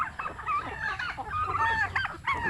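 Young domestic turkeys about three months old, kept alongside chickens, gobble and chirp in a busy, overlapping flock chorus that stays close and fairly loud throughout.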